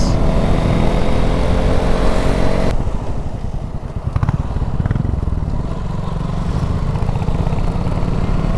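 A Royal Enfield motorcycle rides past with a steady, throbbing engine drone and a shift in tone partway through, heard close and continuous.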